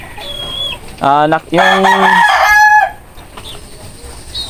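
A pet chicken clucks and crows close by in a few loud, harmonic bursts, with a brief word spoken and quiet gaps between calls.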